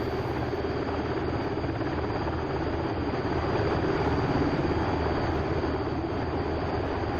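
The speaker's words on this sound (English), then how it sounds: "We got a couple helicopters going in now" Pave Hawk helicopters flying in the DCS flight simulator, a steady, loud rotor and engine drone that runs continuously without a break and has no talk over it.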